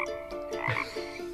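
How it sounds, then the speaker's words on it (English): Frog croaking in a short series of loud, close, rasping calls, heard alone with no talk. "frog, that's right"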